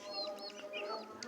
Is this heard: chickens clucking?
yes